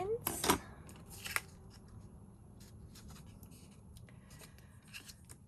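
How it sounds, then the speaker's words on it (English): Ends of card paper trimmed on a craft mat, with a couple of sharp snips early on, then quieter rubbing and rustling of paper. "then I'm going to cut those ends"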